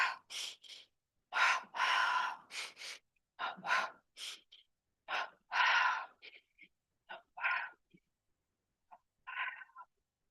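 Double breathing during a yoga arm-recharging exercise: quick, forceful breaths close to the listener, grouped in short paired bursts with silent gaps between them, repeating in an uneven rhythm over about ten seconds.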